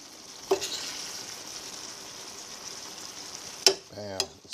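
Chicken taco salad ingredients sizzle steadily as they simmer in a pan, a continuous frying hiss from start to finish, with a couple of sharp utensil clicks and a short voice near the end.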